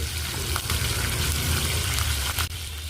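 Loud, steady sizzling of curry leaves and slit green chilies frying in hot oil for an eggplant masala curry, with a few brief crackles over the constant hiss.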